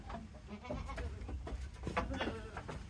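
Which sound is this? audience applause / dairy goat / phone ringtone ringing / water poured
dairy goat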